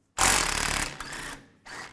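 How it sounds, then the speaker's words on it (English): A 12mm socket on a power tool spins out a trailing arm bracket bolt on a 1997-2001 Honda CR-V, with a sharp close-up whir lasting under a second, followed by fainter rattling bursts as the bolt comes free. "Now I'll take this bolt out here with this bracket"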